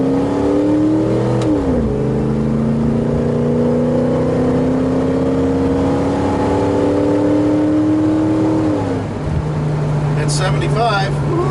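A Ford F150 pickup truck accelerates hard, its engine note rising steadily through a gear, shifting, then climbing again before easing off, with a voice speaking briefly near the end.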